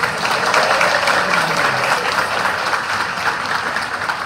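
Congregation applause at a priestly ordination ceremony, a thick, continuous wash of clapping from a large crowd filling the space, steady and loud throughout with faint voices beneath.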